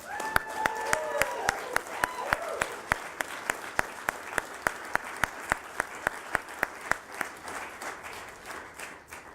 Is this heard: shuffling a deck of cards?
no